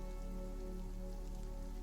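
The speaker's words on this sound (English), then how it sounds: "The rain around you falls." Steady rain falls as a continuous soft patter in a tabletop roleplaying story, filling the whole stretch evenly with no talking.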